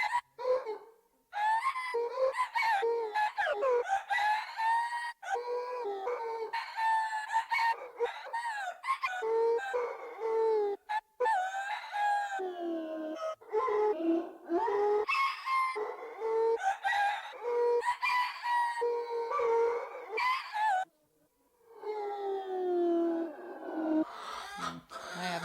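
Chickens crowing and clucking in a long, dense run of loud, overlapping calls with brief pauses between bursts, no talking over them.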